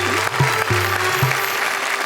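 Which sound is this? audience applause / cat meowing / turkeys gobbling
audience applause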